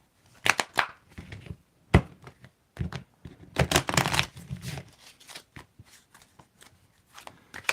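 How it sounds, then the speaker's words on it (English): Cards being shuffled in quick riffling bursts, with crisp flutters and soft taps between, close by and fairly quiet. "Let's give it a good shuffle."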